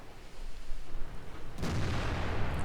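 A tank cannon from World of Tanks, the FV215B on the reworked Erlenberg map, fires once about midway. The onset is sudden and broadband, followed by a heavy low rumble that holds to the end over steady background engine noise.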